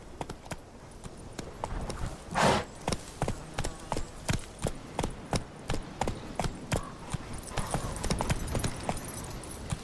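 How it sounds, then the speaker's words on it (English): Horse hooves clip-clopping at a steady trot or gallop in The Witcher 3, a fairly even rhythm of close, distinct hoofbeats with light ambient background. "Come on, Roach."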